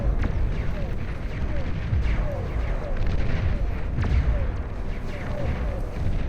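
Bulwark defenses fire tachyon beams at advancing Sumo units in the strategy game Beyond All Reason, with a dense, continuous roar of booming blasts and explosions and occasional sharper cracks throughout.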